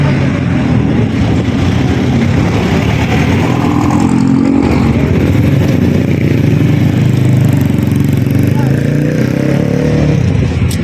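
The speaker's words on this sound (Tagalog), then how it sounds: "Big motor yan." A big motorbike's engine rumbles past loudly and close by on a street, holding a steady roar throughout with a rising, revving swell near the middle.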